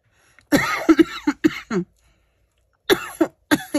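A woman indoors coughs in two short clusters of several dry, close, fairly loud coughs separated by a brief silence, with no talking.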